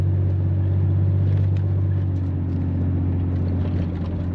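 A Nissan 300ZX Z32 idling with the throttle released as its RPM hunts up and down, a loud, close engine drone that holds steady and then shifts slightly in pitch partway through.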